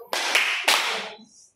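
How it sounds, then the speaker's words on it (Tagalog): Two sharp claps of applause for a student ring out in a classroom, each a bright, close burst about half a second apart, followed by a brief fading tail. "Bigyan natin ang dalawang palakpak si Althea."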